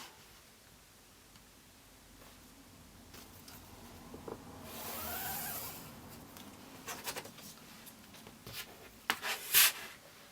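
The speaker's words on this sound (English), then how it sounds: "And we're drawing a quick mark." A quick mark drawn on fabric along a ruler while making a no-sew mini quilt, a soft rubbing stroke midway followed by a few scratchy scrapes and brief rustles, close and quiet.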